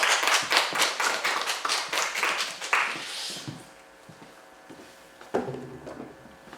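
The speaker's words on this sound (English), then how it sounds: "round of applause." Audience applause at a visiting artist program event: a burst of many hands clapping for about three seconds, then fading out into quiet room noise with a brief voice near the end.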